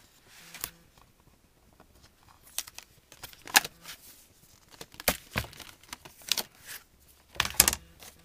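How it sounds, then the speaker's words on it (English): Tape is peeled off a paper gift bag in short, sharp ripping and crackling bursts separated by near-silent pauses, close and fairly quiet. "let's just take off the tape"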